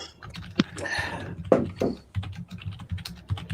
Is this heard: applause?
no